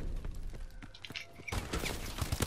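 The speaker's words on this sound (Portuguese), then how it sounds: "Ai, tá atirando." Bursts of rapid gunfire from the Call of Duty Advanced Warfare video game, dense and sustained, with louder volleys erupting in the second half over a busy game soundscape.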